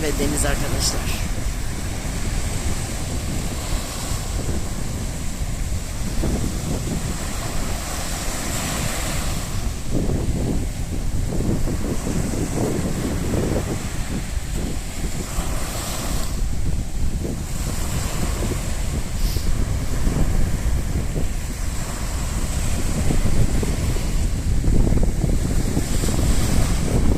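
Sea waves break continuously on a shore on a cold, sunny day, a dense, steady roar of surf close by with gusts of wind buffeting the microphone throughout.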